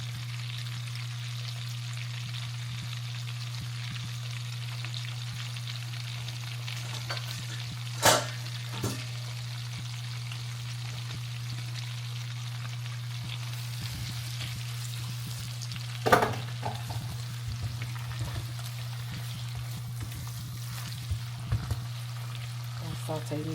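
Minced garlic and chopped parsley with bell pepper saute in a pan with a soft, constant sizzle, a low steady hum beneath, and a couple of sharp utensil knocks along the way.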